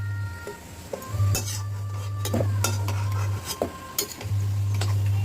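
Metal utensil scraping and clinking in a pan as fried rohu fish pieces are lifted out of hot oil, close clatter with taps over a steady low hum from the stove.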